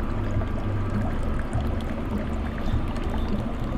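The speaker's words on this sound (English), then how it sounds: "The water coming out from the bamboo." Water pours continuously from a bamboo spout in a Japanese-style garden in Tokyo's Nihonbashi, a steady, fairly loud splashing trickle filling the scene without talk.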